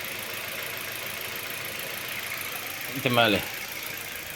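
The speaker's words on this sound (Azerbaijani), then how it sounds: "Avtomobil qızdıqdan sonra bax, indi yaxşı işləyir." A warmed-up car engine idles steadily after repair, a low, even mechanical hum heard close up throughout, with a brief spoken word breaking in near the end.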